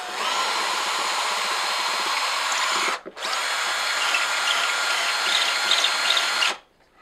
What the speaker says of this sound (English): I'm actually going to do this particular hole with the 3/16.